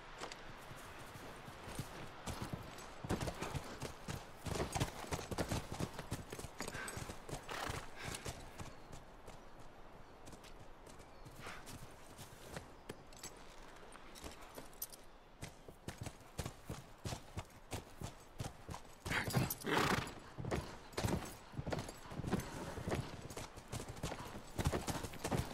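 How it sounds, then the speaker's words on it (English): Horses' hooves clip-clop steadily on the ground in The Last of Us, in a walking rhythm with uneven surges, while an occasional whinny rises above the hoofbeats. "Back to the horses."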